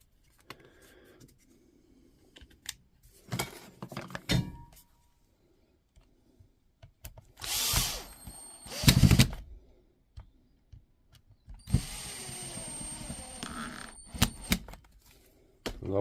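A cordless power tool briefly whirs to drive in two screws on a Makita tool housing, two short bursts of motor buzz between quiet handling clicks and taps, close by.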